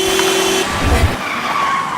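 In an Indonesian TV drama scene, a car's tires squeal in a short skid, followed by a dull thudding impact as it hits another car, then a quieter lingering tone.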